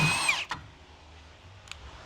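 An impact wrench gives a brief, close, high-pitched whirring burst while loosening a shock bolt on a G35/G37, then stops, with a faint click shortly after.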